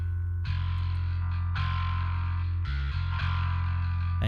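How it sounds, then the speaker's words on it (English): Fuzzed-out bass through the Neural DSP Parallax bass distortion plugin, loud and aggressive, with a thick sustained distorted tone and a few note changes, played alone with no talking. "you get aggressive with it, it really kind of starts to fuzz out"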